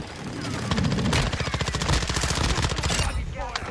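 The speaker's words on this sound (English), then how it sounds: "Oh, I'm getting shot from behind." Rapid automatic gunfire in a multiplayer shooter video game, a fast, even burst of loud shots sustained for several seconds, with a voice briefly audible underneath.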